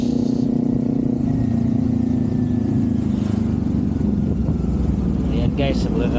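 Motorcycle engine humming steadily while riding on the road from Subic to Morong, Bataan, a loud constant drone with wind rumble and someone talking over it throughout.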